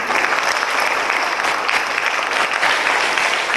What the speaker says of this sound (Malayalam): അവർക്ക് നമുക്കൊരു വലിയ കൈയടി കൊടുത്ത് അഭിനന്ദിക്കാം